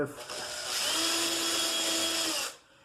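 A handheld power drill boring a hole, a steady whirring buzz with a rising tone that runs for about two and a half seconds and then winds down, close and loud in a quiet workshop.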